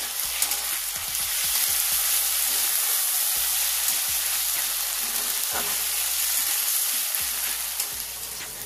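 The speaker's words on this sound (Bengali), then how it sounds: "টমেটো আর পেঁয়াজ ভালো করে ভেজে নেব" Tomato and onion fry in a pan with ginger, garlic and green chilli for a Bengali lote fish jhuri, giving a steady close sizzle broken by scraping stirs, with no talk.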